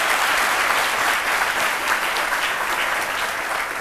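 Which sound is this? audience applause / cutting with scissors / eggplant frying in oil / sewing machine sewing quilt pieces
audience applause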